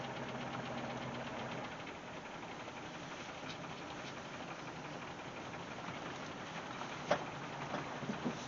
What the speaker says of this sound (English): I don't know if you can hear that noise in the engine, kind of a clattering.